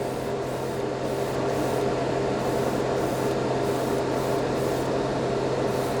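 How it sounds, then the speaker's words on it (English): An airbrush sprays Mr. Color Super Metallic paint at just under 20 psi with a close, continuous airy hiss. The flow pulses slightly as the trigger works, and no one speaks over it. "with this particular airbrush, I'm going with just under 20 psi"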